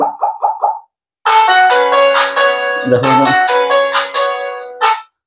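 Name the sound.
HMD 130 Music phone ringtone playing through speaker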